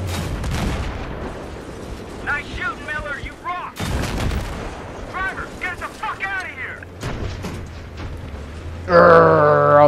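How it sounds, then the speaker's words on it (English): Battlefield 3 combat with bursts of gunfire and heavy booms from tank fighting, loud sharp blasts spaced a few seconds apart, with radio-style chatter and whistling tones in between and a sustained electronic tone at the end. "Fire! Fire Sabo!"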